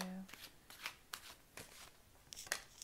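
Oracle cards from the Wisdom of the Oracle deck being shuffled by hand, a series of close, crisp riffling swishes in quick irregular bursts at a soft level.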